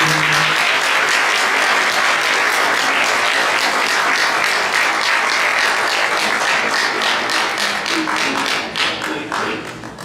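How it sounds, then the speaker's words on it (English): An audience at a live-streamed Fourth of July gathering breaks into loud, sustained applause after a patriotic speech, the dense clapping tapering slightly near the end, with a brief voice at the start. "Please give another round of applause to Judy here."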